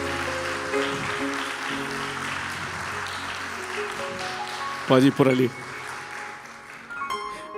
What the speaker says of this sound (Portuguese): Uma salva de palmas para eles.